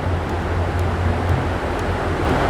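A real wind tunnel blows wind at over 110 mph, a loud, steady roaring rush with heavy buffeting rumble that holds without pause.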